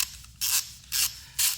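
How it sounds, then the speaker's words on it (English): Ratcheting mechanism of a 1/2 drive flex head torque wrench with a 90-tooth ratchet, heard in three short bursts of fine, rapid clicking with brief pauses between, close and clear with no talk. "the audible sound from the ratcheting mechanism"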